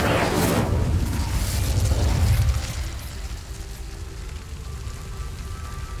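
A fire spell cast in Hogwarts Legacy: a loud, crackling whoosh of flames for about two seconds that drops into a quieter, hissing rumble.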